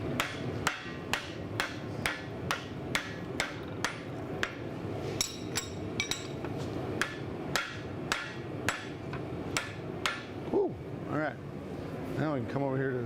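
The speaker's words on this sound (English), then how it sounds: "So I'm gonna start folding this thing over. Now, use this hammer." Hammer blows on hot steel at an anvil while forging a bark spud, a steady run of sharp, ringing metallic strikes at a regular pace, fairly close, with a brief pause and a few scattered hits near the end.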